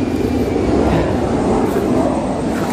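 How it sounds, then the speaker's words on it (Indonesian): An airplane over Majalengka, Indonesia, is heard as a loud, continuous low rumbling roar that holds steady throughout, with no speech. "suara pesawat cuy."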